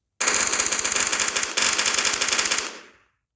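Automatic weapon in a modded Minecraft game fires a rapid, continuous burst of loud rattling shots for nearly three seconds, then cuts off with a brief decaying tail, no talking.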